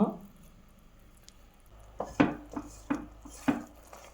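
A utensil scraping a Mysore Pak mixture containing milk powder out of a vessel, a soft opening rustle followed by a series of close, clinking metallic scrapes and knocks spaced roughly half a second apart.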